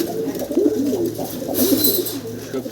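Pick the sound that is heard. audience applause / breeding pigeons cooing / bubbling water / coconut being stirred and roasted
breeding pigeons cooing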